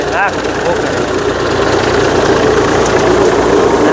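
A steady tractor engine drones throughout at close range, a continuous low rumble with faint knocking, while a brief voice comes through near the start.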